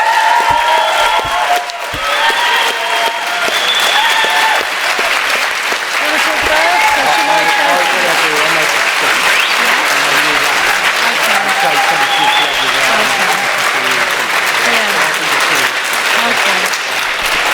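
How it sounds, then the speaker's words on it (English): A large audience at a vegan festival gives a loud, sustained ovation for a panel of speakers, dense clapping mixed with scattered cheers and voices rising through the crowd from start to finish. "let's just have a massive round of applause for our four very brave, very eloquent and incredibly interesting speakers"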